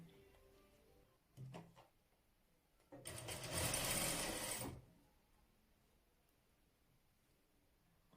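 A sewing machine pipes the edge of a ruffled-hem baby dress, a short burst near the start followed by one sustained run of close, whirring stitching lasting under two seconds, then quiet.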